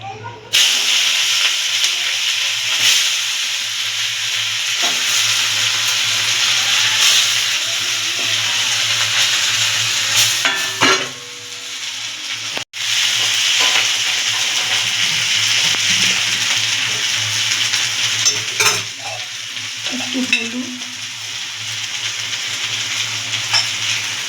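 Grated potato, onion and carrot fry in hot oil with black cumin in a pan, a loud continuous sizzle broken by stirring scrapes and a brief clatter near the middle.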